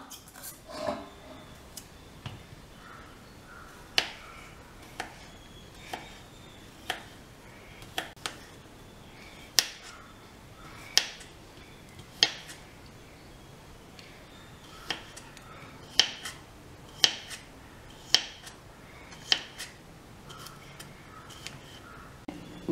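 Boiled fresh turmeric root is chopped into small pieces with a knife, giving sparse, sharp clicks and taps at irregular intervals over a quiet background.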